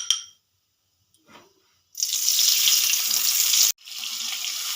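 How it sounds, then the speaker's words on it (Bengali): Black cumin seeds dropped into hot oil for tempering crackle into a loud, steady sizzle that starts abruptly after a near-silent pause, cuts out briefly and resumes, close and alone. "ফোড়নে দিয়ে দিলাম কালো জিরে"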